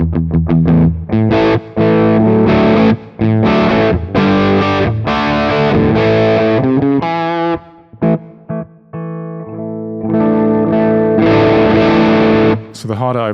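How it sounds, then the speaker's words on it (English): Electric guitar played through a simple asymmetrical-clipping overdrive running in software on an STM32 microcontroller, giving loud, sustained distorted chords and notes that swell and break off with short gaps, then a brief pause before strumming resumes. "So the harder I play, the more distorted it gets, of course."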